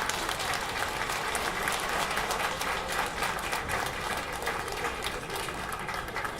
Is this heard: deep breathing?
no